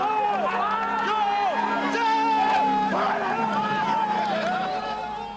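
A crowd at the start of a rally raid event roars in a frenzy as cars head off, with dense, sustained cheering and babble all the way through, fading slightly toward the end.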